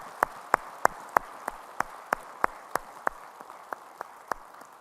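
A Korean church congregation at a Sunday service gives a slow, sparse round of claps, about fifteen evenly spaced sharp hand claps over five seconds, rather quiet and fading slightly toward the end.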